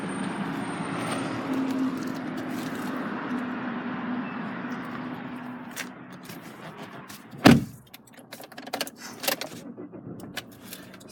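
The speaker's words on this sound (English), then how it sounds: "Here we have the electric windows and mirrors." Electric windows and mirrors of a Chevrolet Orlando 2.0 VCDI diesel automatic MPV operate in a steady motor whir for several seconds inside the cabin, ending in a sharp thump near the middle, followed by faint clicks.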